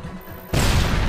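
A single loud blast of C4 in Sniper Ghost Warrior 2 erupts suddenly after a quiet moment, sustaining a dense, rumbling roar inside an unstable cave system.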